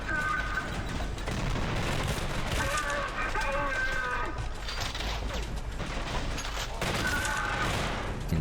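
Gunfire in the fast first-person shooter Trepang2, dense bursts of shots and booms running throughout at steady loudness, shooting while sliding amid mechanical game effects.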